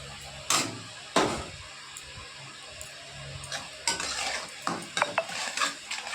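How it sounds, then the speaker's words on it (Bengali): Vinegar, soy sauce and tomato sauce are stirred together, giving a spoon's irregular scraping and clinking against the vessel, with a couple of sharper knocks early on and a faint sizzle underneath. "vinegar, soya sauce, tomato sauce ভালো করে নেড়ে নেব"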